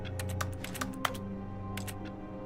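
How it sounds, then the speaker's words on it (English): Rapid mouse clicks in a video game office scene, a quick irregular run of sharp taps followed by a short pause and a couple more clicks, close and fairly quiet. "I can make clicking noises with the left click"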